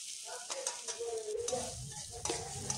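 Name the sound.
stirring tomato frying in pan with panch phoron and green chilies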